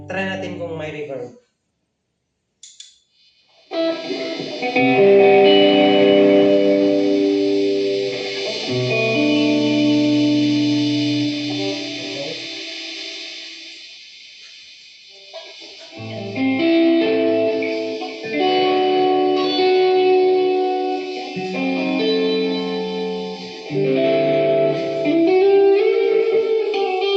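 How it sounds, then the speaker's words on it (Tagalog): A white Hajemi Neo HT-2 headless electric guitar played with reverb, sustained chords and single notes ringing out with a washy tail, loud and close, with a short pause partway through. "Try natin kung may reverb."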